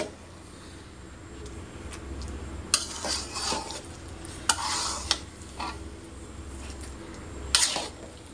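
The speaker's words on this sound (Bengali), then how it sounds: "মেথিটা দিয়ে নেড়ে নিব, ভালোভাবে মিশিয়ে নিব এর সাথে" Mango pickle stirred with ground fenugreek and spices in a pan: a quiet low sizzle runs throughout, broken by several sharp scrapes and clinks of a utensil against the pot, with no talking.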